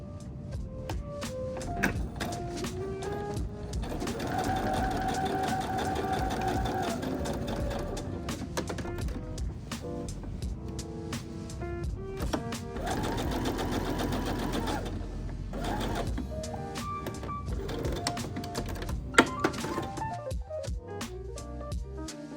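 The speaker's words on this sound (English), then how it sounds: "reinforce the inner corner by sewing along the seam line for 1 inch on each side of the small dot" A sewing machine reinforces the inner front corner of a denim patchwork blazer, its close rhythmic stitching running in bursts and pausing between passes.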